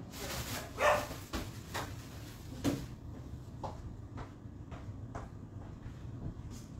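Household dogs bark at someone at the door, a few sharp, fairly faint yaps spaced out over several seconds with clatter between them.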